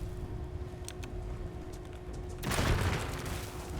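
Rapid gunfire in Starfield: a sustained burst of sharp, distant shots crackling over a steady hum, swelling into a louder volley near the end.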